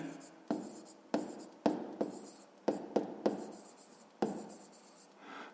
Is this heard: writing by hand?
yes